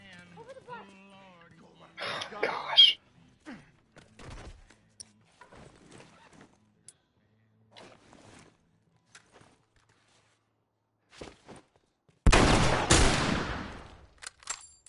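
Gunfire in The Last of Us Remastered, a dense loud burst of shots near the end following quieter game sounds, with talk and scattered clicks earlier.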